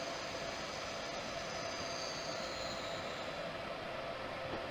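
A train runs steadily in the video game Train Simulator 2019, giving a continuous, even rumble and hiss with a faint high whine that holds at one level throughout, with no talking.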